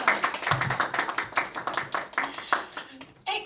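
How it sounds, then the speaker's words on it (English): Children clap in a round of applause, a rhythmic burst of individual handclaps that tapers off, followed by a voice starting to speak. "give yourselves a huge round of applause"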